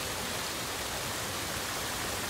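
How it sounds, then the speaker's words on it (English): A waterfall close by pours out a steady, even rush of broadband water noise that never lets up, with no voices over it. "There's a waterfall right there."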